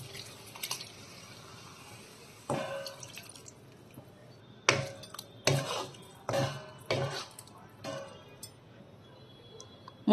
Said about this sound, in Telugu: నెక్స్ట్ టమాటా ప్యూరీ వేసుకుందామండి.